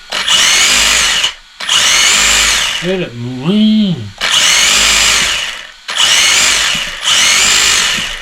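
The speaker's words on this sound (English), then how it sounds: "There's like a pause on this ESC. When you accelerate and it holds back a bit and then goes." A Tamiya Wild One Blockhead RC car's electric motor whines in loud bursts of acceleration, each one hesitating briefly as the ESC holds back before revving up, with a short spoken interjection between runs.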